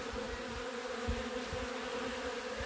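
Honeybees arriving at a hive as a swarm drifts in to join it: a dense, steady buzzing of many bees close by, with a low droning hum underneath and no voices.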